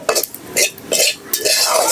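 Mustard seeds are stirred and fried in a wok while a spatula scrapes and clinks against the metal in quick, uneven bursts, close up.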